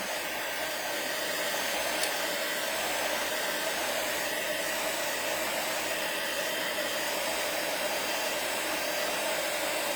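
A handheld hair dryer blows on freshly painted Easter eggs, a loud, steady whooshing roar that runs unbroken throughout with no voices.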